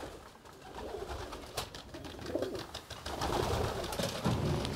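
Pigeons in a loft make soft, low cooing that rises and falls over steady background noise, with no talking.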